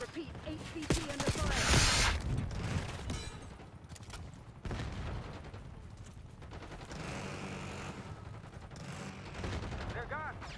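Video game gunfire in a tense firefight, bursts of rapid shots and a loud volley near the start, continuing in sporadic clatter under radio-style voices and talk.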